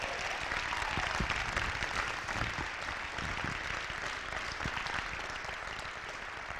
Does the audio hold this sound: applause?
yes